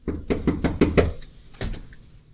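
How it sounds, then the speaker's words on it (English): A hand knocks on the front door of a family home, with a quick series of five or six firm raps followed by two more after a short pause, close and clear with no voices. "I knocked, no response."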